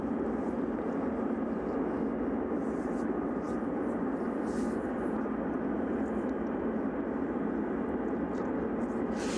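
Boeing 777 jet engines hum steadily in the distance at an airport, a constant broadband drone that neither rises nor fades, heard alone without talk.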